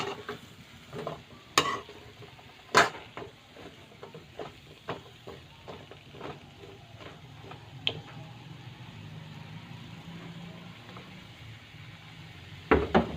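Kalabasa squash and other vegetables being stirred in a cooking pot, giving intermittent scraping and clinking strokes over a low steady simmer, with a few sharper knocks at the start and end.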